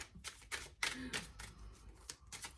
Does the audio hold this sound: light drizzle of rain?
no